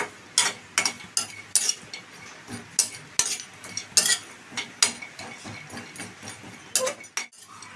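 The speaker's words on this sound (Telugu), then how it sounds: "కొబ్బరి తొందరగా వేగుతుంది." Grated coconut dry-roasting in a pan, stirred with a utensil in steady, rhythmic scrapes and light metallic clinks, close and fairly loud, with no voices.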